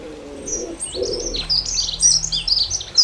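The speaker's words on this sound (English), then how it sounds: "But I can hear everything. Sparrows, blue tits, thrush." Wild birds sing in a garden tree, with sparrows, blue tits, a thrush and robins among them. Bright chirps and trills come close and clear, over a faint low hum.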